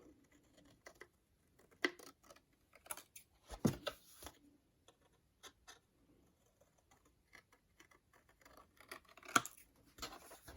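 Scissors snip the corners of paper for a December Daily craft structure, giving scattered short, crisp cuts and small rustles separated by near silence.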